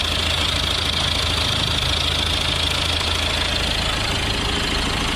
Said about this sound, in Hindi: ये देखिए इंजन स्टार्ट हो चुका है, अब कैसी भी कोई प्रॉब्लम नहीं है इस कार में।